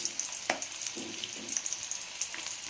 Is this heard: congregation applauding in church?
no